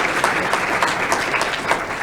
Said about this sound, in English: Let's give her a hand